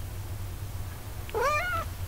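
A pet cat lets out a single clear meow, close and fairly loud over a low steady background hum.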